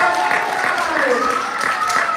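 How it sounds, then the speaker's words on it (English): An audience at a magic show claps and applauds steadily, a dense, even patter of many hands holding at moderate loudness throughout. "big round of applause, high five"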